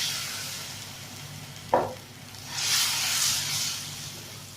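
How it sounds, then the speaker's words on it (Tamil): Bengal gram chutney is stirred gently in a pan as it heats toward a boil, with a quick scrape of the spoon followed by a soft, swelling sizzle and hiss. The sounds are close and moderate, and no one speaks. "நல்லா கட்டி சேர விடாமல் கொதிக்கிற வரைக்கும் லேசாக நல்லா கிண்டி விடுறோம்"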